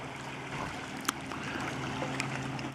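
Sea water lapping in a small rocky cove near Calablava, Llucmajor, on Mallorca, a steady soft wash of water with a couple of sharp splashes or knocks.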